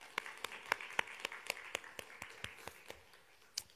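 Sparse clapping from a small church congregation offering encouragement, about a dozen distinct slow claps in an uneven rhythm, fairly quiet and close.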